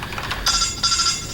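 A phone ringtone sounds twice in quick succession as bright, repeating electronic trills, fairly loud and close against a light background hiss, with no speech over it.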